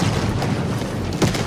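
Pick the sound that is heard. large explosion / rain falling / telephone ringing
large explosion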